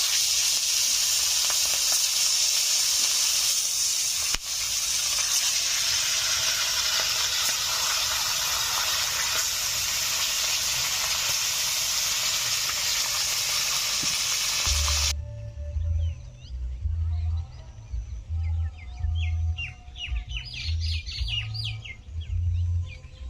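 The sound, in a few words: fish frying in oil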